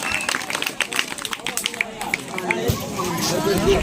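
A crowd at a Sankranti rangoli-contest prize ceremony applauds a guest, scattered claps building into sustained loud clapping amid chatter, while someone speaks over a microphone.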